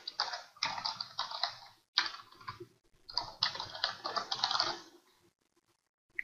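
An email address tapped out on a computer keyboard, two quick bursts of close key clicks separated by a short pause, then quiet.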